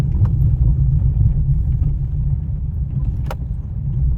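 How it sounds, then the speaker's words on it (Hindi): A car engine hums with a steady, low, close rumble during a learner's driving practice, with no clear rise in revs. "वाइब्रेट हो रही है कार, तो हल्का सा एक्सीलेटर ज़्यादा ले लो"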